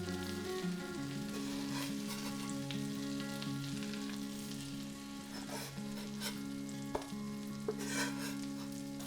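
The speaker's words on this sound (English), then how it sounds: "I will be frying them on small heat for about 5 minutes." Cottage cheese pancakes fry gently over low heat in vegetable oil, olive oil and butter, giving a steady soft sizzle with occasional light clinks, under quiet background music and with no talking.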